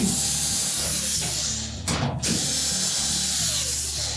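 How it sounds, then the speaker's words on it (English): Screws come out of the top of a Whirlpool dryer, a steady mechanical whir of a driver running close, with a brief louder burst midway over constant background hum. "So we'll remove the retaining screws."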